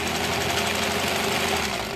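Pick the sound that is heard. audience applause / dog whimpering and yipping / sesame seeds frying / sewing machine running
sewing machine running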